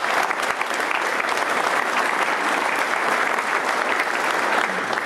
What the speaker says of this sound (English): How about a round of applause for the Congressman?